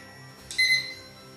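A short electronic kitchen timer alarm chirps once at moderate volume over a quiet room, briefly sounding while a gingerbread house is being made.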